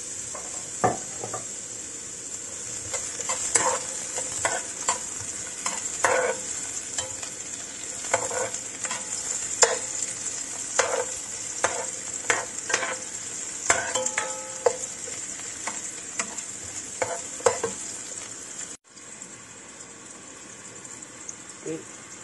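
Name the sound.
onion and garlic frying in a pan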